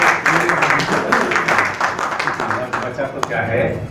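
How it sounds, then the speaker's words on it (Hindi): An audience applauds after a poem recital at a poetry event, a dense patter of clapping heard alongside steady speech and chatter. "जोरदार तालियों से स्वागत कीजिए"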